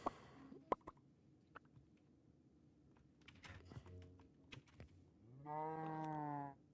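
A cow moos in a farming video game, a sustained harmonic call arriving near the end after scattered clicks and small taps, moderately loud and with no talk over it.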